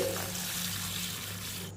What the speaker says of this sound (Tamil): இதை வந்து பவுலில் போட்டுக்குருவோம் இதை தண்ணி ஊற்றி